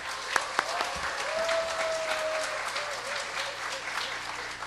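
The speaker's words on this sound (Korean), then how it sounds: "뜨거운 박수로 환영하겠습니다" A church audience at a mothers' prayer meeting applauds to welcome a pastor, producing a sustained wash of clapping with a couple of sharp thumps early and a faint sustained tone underneath.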